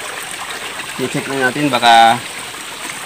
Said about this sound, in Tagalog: Kaya tuloy-tuloy yung pasok ng tubig doon sa ating talayan.